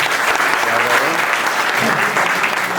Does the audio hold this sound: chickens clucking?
no